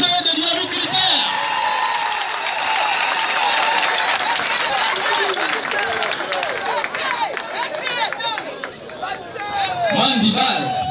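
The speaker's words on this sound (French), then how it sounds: "Une fois de plus, applaudissez pour le SG de Dynamique Unitaire." A rally crowd cheers and applauds for a party's secretary general in Gabon, a dense, continuous roar of clapping, shouts and whoops with crowd babble throughout, louder at the start and end.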